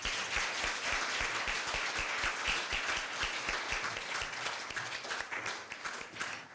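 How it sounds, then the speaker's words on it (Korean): Audience applause at a Korea University evening event, dense sustained clapping from a crowd throughout, loud and close, gradually thinning toward the end. "한 번 더 박수 부탁드리겠습니다."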